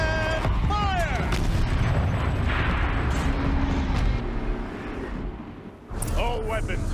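Turret firing in Horizon Zero Dawn, heavy booming blasts with rumbling aftermath, a voice speaking over the opening before the roar settles.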